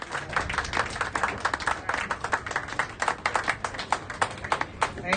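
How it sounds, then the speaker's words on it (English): Applause and clapping from an audience at a fundraiser celebration event, dense irregular hand claps sustained throughout, moderately loud and fairly close, with a faint murmur of voices underneath. "Let's give a round of applause for Jeff Young"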